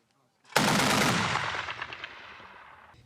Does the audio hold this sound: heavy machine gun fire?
yes